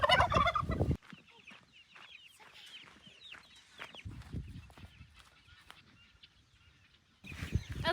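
Farm fowl, likely turkeys, being moved into a pen give repeated gobbling and clucking calls at close range, with louder bursts of handling noise at the start and end.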